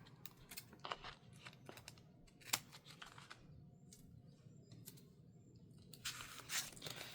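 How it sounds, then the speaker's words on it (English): Quiet cutting along the edge of journal paper gives soft crisp snips and rustles in short irregular bursts, with a sharper crackle midway and more paper handling near the end. "Then I'm going to cut the edge."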